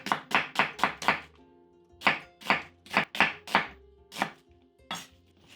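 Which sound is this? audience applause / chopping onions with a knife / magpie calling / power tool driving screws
chopping onions with a knife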